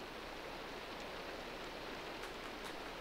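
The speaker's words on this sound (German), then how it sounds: "Es ist gerade Tag und wieso regnet das jetzt?" Steady rain falling in Minecraft during daytime, a faint, even hiss of drops that continues without a break and with no voices over it.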